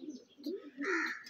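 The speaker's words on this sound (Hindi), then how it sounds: "कबूतर बड़े शौक से खा रहे हैं" Pigeons feeding on homemade grit give soft, low cooing calls close by, two or three short murmuring coos with a brief higher chirp, quiet and alone.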